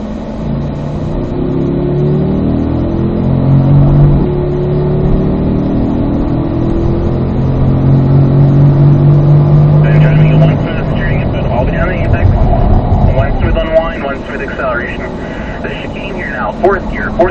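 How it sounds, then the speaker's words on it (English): Race car accelerating down the straightaway at Spring Mountain North Course, its engine rising in pitch through the gears, loud and close in-car, with a sharp rev change and gearshift near the end. "squeezing on the throttle, we'll head on down that straightaway"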